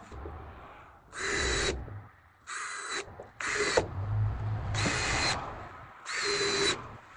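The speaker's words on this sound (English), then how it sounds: "Use a little drill bit to pre-drill the middle of your spot weld." A power drill bores with a small bit into spot welds on the sheet-metal body of a rolled-over Toyota Tacoma, in five whining bursts of one to two seconds each separated by short pauses, close and fairly loud.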